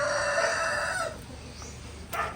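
Rhode Island and Brahma chickens call loudly in a short burst in the Philippines, then go quiet, with a brief squawk near the end.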